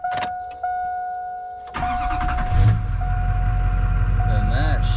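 A car's ignition is switched on and the dash chimes ring. The engine then cranks and starts, and its low idle rumble carries on steadily as a voice talks nearby.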